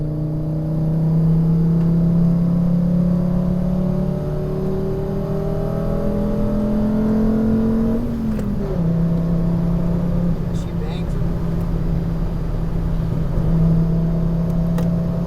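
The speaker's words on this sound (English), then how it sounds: "let's give it some beans and see how she drives. A third gear pull here." A 2004 Volvo S60 compact executive sedan pulling hard in third gear, its engine drone climbing steadily before a brief dip and a higher steady cruise, loud from inside the cabin with someone talking over it.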